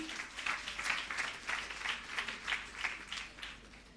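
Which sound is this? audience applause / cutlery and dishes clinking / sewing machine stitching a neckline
audience applause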